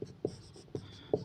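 Chalk or marker writing on a board during a lesson gives a few quick scratchy strokes in an uneven rhythm, close and fairly faint.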